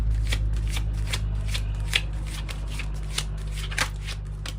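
Oracle cards from the Genetic Gifts deck being shuffled by hand, a steady run of soft riffling flicks close up over a low constant hum.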